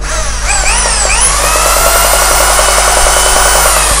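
A Bosch 220 V three-function electric drill runs in plain drilling mode without hammer action, a loud, steady close-up motor whine that briefly rises in pitch as it spins up, then holds constant.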